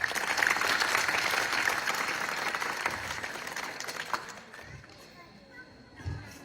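Audience applause at an Ahir community gathering, a dense crowd clapping steadily at first and then thinning out and fading toward the end.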